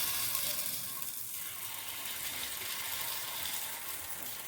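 Ponganalu batter sizzles and fries steadily on a hot pan, a continuous close crackle with bright hiss holding at an even level throughout.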